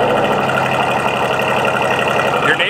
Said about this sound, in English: not a very subtle exhaust system on here, let me give you a little cold start.